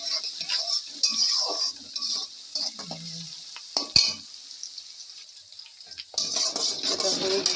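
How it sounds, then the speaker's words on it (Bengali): Chow mein with capsicum frying in a pan, giving a steady sizzle broken by stirring scrapes and clinks of utensil against metal, close and fairly loud, with no talk. "এটা আগে আমি এধারে একটু ভেজে নিচ্ছি"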